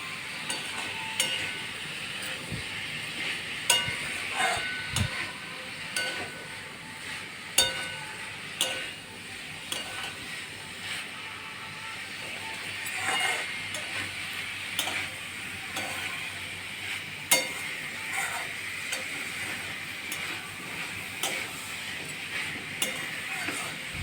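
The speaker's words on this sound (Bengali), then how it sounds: "মোচাটা একটু মশলার সাথে ভালো করে একটুখানি কষিয়ে দেবো" Banana flower being sautéed with spices in a pan, giving a soft, continuous sizzle with intermittent clinks and scrapes of a spoon against the pan, heard close and at moderate loudness.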